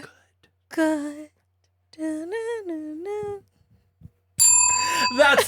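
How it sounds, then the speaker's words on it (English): Bicycle bell rung in three separate bursts, each a bright metallic ring with a clear pitch. The last burst is the loudest and sits close to the listener, and there is silence between the rings. "That's the bell."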